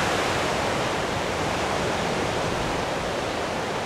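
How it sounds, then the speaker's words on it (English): Steady broadband wind rushing at a coastal winter campsite, loud and constant with no gaps, and no voices. "just to keep a bit of the wind off as it's coming from that direction there"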